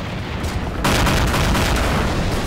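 Heavy weapons firing in Garry's Mod, a dense, loud barrage of gunfire that swells sharply partway through and keeps rumbling continuously to the end, with no talk.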